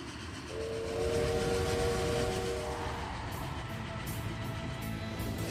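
Steam train whistle in a game trailer, a steady tonal blast of a few seconds over hissing rail noise and music, then continuing train rumble.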